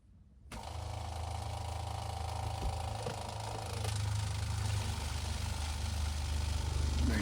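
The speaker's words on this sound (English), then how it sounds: "Now we're going to have my wife turn on the pump, and we'll watch it start sucking all this stuff down as it charges up the line." A travel trailer water pump kicks on after a moment of silence and runs with a steady low electric hum and buzz, close and constant, as it charges the lines for winterizing.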